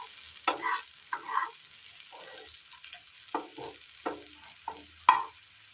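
A spatula scrapes fried tomato and onion to one side of a pan in short, separate strokes about a second apart, over a faint background sizzle.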